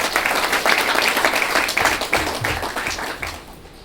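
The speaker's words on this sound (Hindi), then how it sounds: "तो एक जोरदार तालियां इसके लिए।" An audience at a direct selling celebration event bursts into strong applause, with crisp individual claps clearly audible close by. The clapping holds steady, then thins out and fades toward the end.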